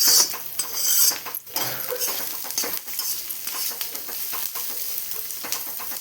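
Poha being stirred in an iron kadhai, a metal spoon scraping and clinking against the pan in steady repeated strokes with a light sizzle underneath, close and fairly loud, no voices.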